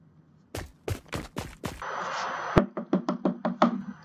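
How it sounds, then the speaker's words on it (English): Knocking on a door: four loud spaced raps, a pause with a soft hiss, then one heavy thump followed by a quicker run of six lighter knocks, all close and clear with no talking. "Somebody's knocking on my door."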